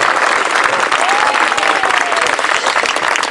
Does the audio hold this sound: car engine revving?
no